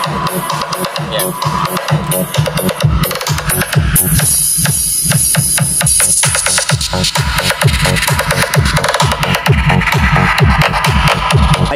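A speaker box plays music at high volume during a sound test, with punchy repeated bass thumps and a busy wideband mix running steadily for about twelve seconds, close to the listener.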